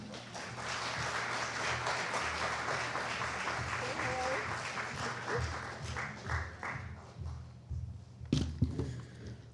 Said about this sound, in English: Please give a big round of applause to Akshay.